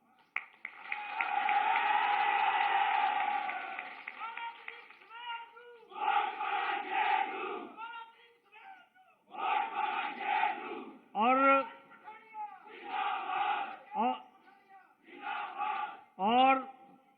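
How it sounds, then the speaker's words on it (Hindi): Crowd at a political rally in Fatehpur, Himachal Pradesh: a long loud roar of chanting voices, followed by repeated bursts of slogan shouts and cheering in rhythmic waves, fairly close and dominant throughout. "आपके नारे और आपकी तालियों की गड़गड़ाहट सुन रहा था"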